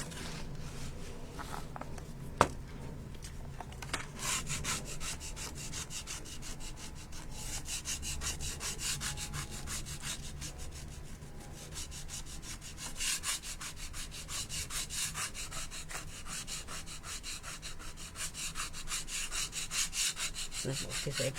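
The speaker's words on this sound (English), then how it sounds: "so I'm lifting off the shabby medium where the waxy bits are, where I've got lumps." Shabby medium rubbed off a painted decorative mould piece, a continuous close rhythmic scrubbing and rasping with one sharp tap early on, steady and moderately loud, no speech.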